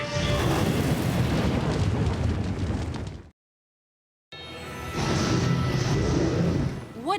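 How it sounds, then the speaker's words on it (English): A cartoon dragon attacks a castle with booming fire, two long, loud roaring blasts separated by a brief stretch of total silence. "A dragon attacking the castle."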